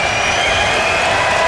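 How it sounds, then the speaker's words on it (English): Dense crowd noise in a UFC arena during a fight, a steady loud roar of cheering and applause that holds without a break for the whole moment. "The crowd trying to cheer on their own."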